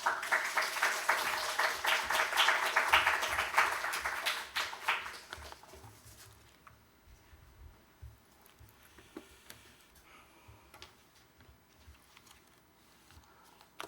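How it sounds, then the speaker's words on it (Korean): A church congregation claps to welcome the pastor to the pulpit, a dense patter of hands for about six seconds that then thins out into scattered light taps and quiet room noise. "우리 박수로 환영해 주시기 바랍니다."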